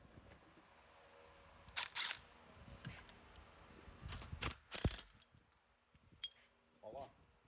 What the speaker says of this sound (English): Then you put a puller on there, and let's see if it comes off.